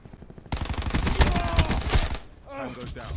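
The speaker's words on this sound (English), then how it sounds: "Wow, shotgun." Shotgun blasts in Call of Duty Black Ops 2 ring out in a rapid, loud cluster of repeated shots, followed by a quieter stretch where a voice talks.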